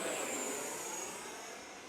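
A Horizon Hobby F-18 80mm ducted-fan RC jet in Blue Angels livery flies at full throttle, giving a steady high-pitched whine and rushing roar that fades slightly as it passes, with no talk over it.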